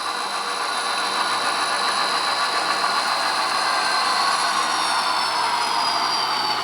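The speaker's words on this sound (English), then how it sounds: "And those GP7s just revving up." GP7 diesel locomotives revving up, a loud sustained engine roar with a whining tone that rises slightly near the end, continuous and nearby.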